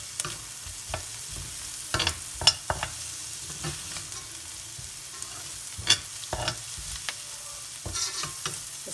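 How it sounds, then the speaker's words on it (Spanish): Garlic stirred into onions in a frying pan for Chinese-style fried rice, with a steady low sizzle and repeated scraping stirs of a utensil against the pan, at close range. "Lo voy a mezclar con la cebolla."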